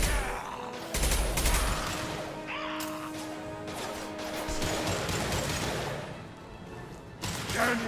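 Weapon fire in Mass Effect 2, with bursts of loud, rapid shots and crashing impacts layered over a dense, busy game battle soundscape with humming tones and scattered whooshes.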